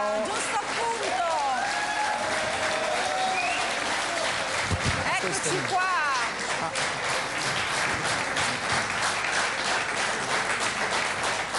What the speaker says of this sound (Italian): Faccio consumare tutto l'applauso che ti meriti